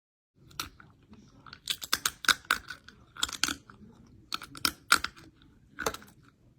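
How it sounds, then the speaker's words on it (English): Close, crisp crunching as a Daily Crunch snack is bitten and chewed, about a dozen sharp crunches in irregular bursts over several seconds, with no talk. "This is what the crunch sounds like."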